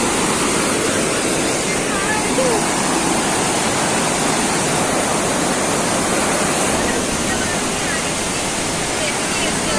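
River water rushes and foams at the Devprayag confluence in Uttarakhand, a loud, close, unbroken roar of turbulent water that fills the whole stretch.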